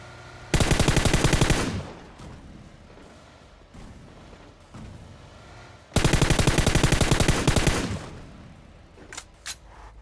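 Suppressed VSS rifle firing in PUBG, two sustained rapid bursts of about a second each, loud and close, separated by quieter game ambience and followed by a few faint scattered shots.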